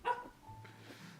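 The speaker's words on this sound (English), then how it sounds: "Sandy's really barking at Kingdom Hanks here." In a Bayonetta game on the Nintendo Switch, a dog gives one quick, fairly faint bark, followed by a low, quieter tail of game sound.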